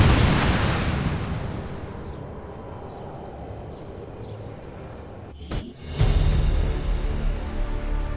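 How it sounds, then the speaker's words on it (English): Explosive charges detonate in a video game: a loud, booming blast at the start decays into a long rumbling tail, and then a second heavy burst of explosions and rumble follows near the end. "Detonating charges."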